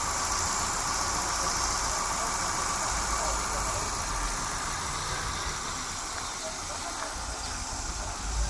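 A car engine idles steadily with a constant low rumble and faint hum throughout, fairly close and unchanging in level, with no speech.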